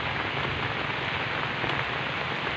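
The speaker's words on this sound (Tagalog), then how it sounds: "bumaha pa rin kasi ilang araw na kasi umuulan dito" Steady heavy rain hisses continuously on surfaces nearby, an even dense patter with no breaks.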